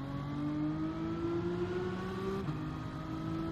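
Race car in the video game Gran Turismo 7 accelerating hard out of a tunnel, a steady engine whine rising in pitch, then a quick gear change and the climb resumes.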